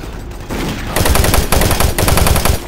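A chain gun in the Doom 3 video game fires a loud, rapid burst of shots, starting with a softer run and then swelling into a dense, rattling stream of gunfire.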